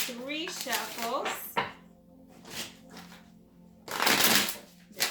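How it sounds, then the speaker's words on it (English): Tarot cards being shuffled in quick riffling bursts, with a voice speaking between and over the shuffles, close and moderately loud. "let's give it about 3 shuffles."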